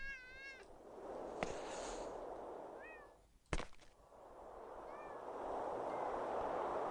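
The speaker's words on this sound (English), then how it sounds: "I think the cats are adorable. Just look at the little fella." Cats in the video game Thirty Flights of Loving give several short, high meows spread across the moment, with a sharp bang in between and a soft wash of ambient noise behind them.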